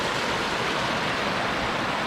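A creek on Lewis Creek Trail flowing down its restored natural channel, a steady, close rushing of water with no breaks.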